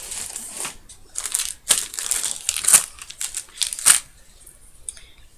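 Plastic packaging wrap being crinkled and pulled off a parcel: continuous close, loud crackling and crumpling in bursts, with no talking.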